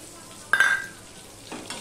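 Ginger is stirred into fried potatoes in a pan, giving a brief scrape and sizzle near the middle with a faint second stir at the end over a quiet background.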